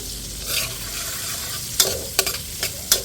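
Onion sizzling as it fries in a pan for soup, with a steady hiss underneath and several sharp scraping knocks of a utensil stirring against the pan, close up.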